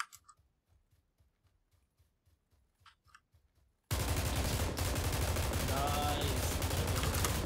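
Gunfire in PlayerUnknown's Battlegrounds: a run of faint, rapid clicking shots, then a sudden loud, sustained burst of light machine gun fire filling the second half.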